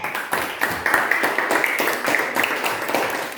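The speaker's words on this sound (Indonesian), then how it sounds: "Tepuk tangan dulu buat Dede." Students in a classroom clap together in a quick, rhythmic burst of roughly a dozen sharp claps, moderately loud and close, with no talk over them.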